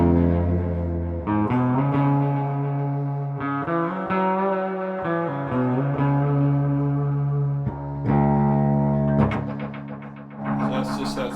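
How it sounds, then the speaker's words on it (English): A Space Echo pedal on a guitar rig produces sustained, repeating echoed tones with a distorted edge, moderately loud and continuous, with no talking. "So that's just that Space Echo by itself."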